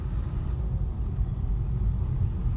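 Car rolling through the main gate and down the drive at Prestwold Hall, Leicestershire, England, a steady low engine and road rumble throughout with no other sounds.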